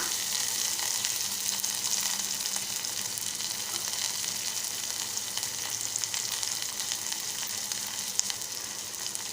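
Onion, green chillies and curry leaves tipped into hot oil for a Malvani-style horse gram pithla, giving a loud, steady, close sizzle that holds evenly throughout with no voices.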